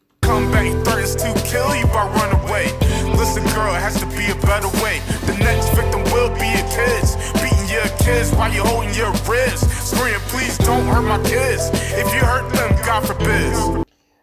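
A full, dense music track plays loud and continuous for about fourteen seconds, with steady bass, rhythmic hits and bright highs, then stops abruptly.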